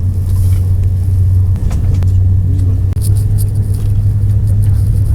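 Eurostar high-speed train running at speed through Kent, England, after leaving a tunnel, heard from inside as a loud, steady low rumble and hum with faint rattles, continuous and close.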